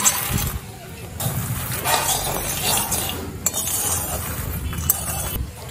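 Dry-roasted makhana and chickpeas are stirred in a pan over low flame, producing scraping, rattling and clinking of a spoon against the pan in uneven strokes.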